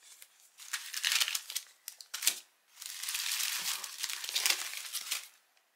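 Paper and plastic wrapping crinkles and rustles as a Hemlock & Oak undated planner notebook is unwrapped, arriving in close bursts of crisp crackling with a short pause partway through.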